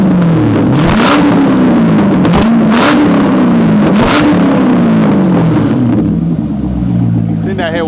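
A loud car engine revs repeatedly in a loudness contest against a Corvette, rising and falling in several aggressive pulls close to the microphone before settling into a rumbling idle.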